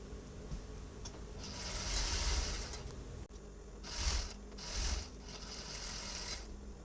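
A sewing machine closes the side seam of a halter dress with a crisscross neckline. It runs quietly in a few short whirring bursts of stitching, separated by soft handling sounds.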